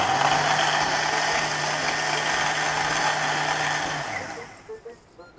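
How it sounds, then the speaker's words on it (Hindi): A blender running loud and steady as it blends mango juice with ice cubes and yellow food colour, then winding down and stopping near the end, with a few faint clinks after. "येलो फूड कलर और आइस क्यूब्स उसे हमें ब्लेंड करना है।"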